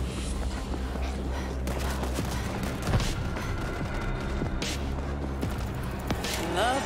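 A C4 explosion in the zombie shooter World War Z, heard as a muffled boom and crackling blasts mixed with ongoing gunfire and game effects, loud and dense throughout.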